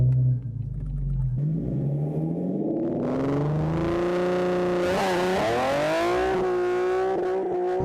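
A modified Nissan 370Z engine and exhaust drone loudly from inside the car while driving, with the pitch climbing smoothly through a long acceleration. A brief dip marks a gear change before the revs rise again.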